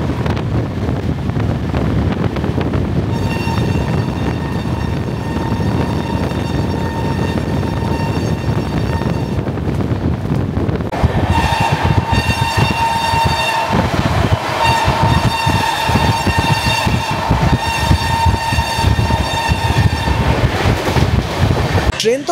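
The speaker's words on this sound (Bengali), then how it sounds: "ট্রেন তো ফাটিয়ে টানছে এই নৈহাটি থেকে রানাঘাটের মধ্যে, ঘন্টায় 108 থেকে 109 কিলোমিটার স্পিড মেনটেন করছে।" The Sealdah–Jalpaiguri Road Humsafar Express runs at about 108–109 km/h between Naihati and Ranaghat, a loud continuous rolling roar with wind buffeting and a long sustained horn blast partway through.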